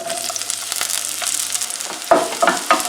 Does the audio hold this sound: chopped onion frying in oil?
yes